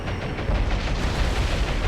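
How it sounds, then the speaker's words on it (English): A ship's magazine exploding in a naval war video game set in the East Indies campaign: a loud, sustained low rumbling roar with no voices. "It looked like a magazine explosion to me."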